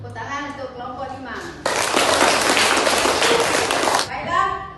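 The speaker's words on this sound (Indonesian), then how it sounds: "Tepuk tangan untuk kelompok 5." Children in a classroom break into a burst of enthusiastic clapping for a presenting group, loud dense applause lasting a couple of seconds, bracketed by a teacher's voice before and after.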